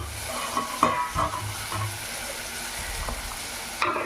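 Potato pieces frying in hot oil after chilli powder, a steady soft sizzle with occasional stirring clinks and scrapes of a spatula in the pan, close by and without talk.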